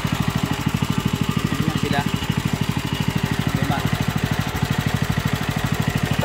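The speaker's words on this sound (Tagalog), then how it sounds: "pinapainit ko lang yung makina natin" A small engine warms up in a vegetable garden, chugging with a fast, steady, even pulse close by while a person speaks briefly over it.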